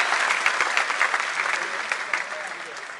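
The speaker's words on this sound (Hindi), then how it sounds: "तालियां बजाइए तो मिलके बजाइए, वरना मत बजाइए।" An audience at a Hindi poetry recital applauds together, a steady wash of clapping that stays strong for a few seconds and eases slightly toward the end.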